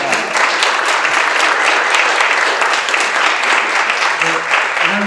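An audience applauds the presenters at a mental health awareness education event, with steady, dense clapping throughout and no break.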